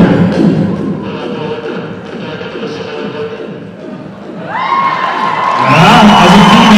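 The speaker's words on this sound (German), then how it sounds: "Also Applaus für unseren Borg" A large crowd at a Vienna comic convention cheers, claps and whoops loudly and steadily for a Borg cosplayer from Star Trek: The Next Generation, with a swelling electronic tone rising near the end.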